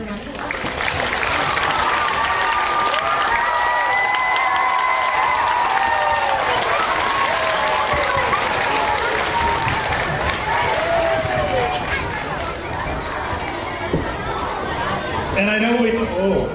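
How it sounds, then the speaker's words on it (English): An elementary school audience gives loud, sustained applause after a children's play, with cheering and crowd chatter throughout and a few raised voices above the clapping. "Let's give them another round of applause."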